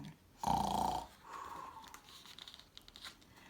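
A voice imitates a bear snoring: one drawn-out, rasping snore near the mic, followed by softer breathy rustling and quiet noises.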